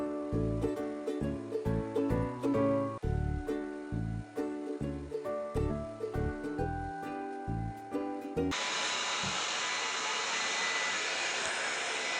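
A hair dryer blows on thick, damp clothes, starting abruptly as a loud, steady whoosh after a stretch of rhythmic music, then running on alone and close.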